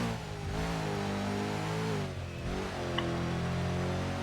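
BMW car engine in a Minecraft car mod revving steadily with a harmonic whine, its pitch dipping and climbing again as gears shift, close and continuous with no voices over it.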